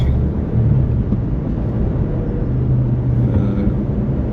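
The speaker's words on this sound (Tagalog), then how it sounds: "today we are caught in a traffic" Steady low engine rumble of cars idling and creeping in stop-and-go Friday morning traffic on Mabuhay Road, a continuous close drone with no voices.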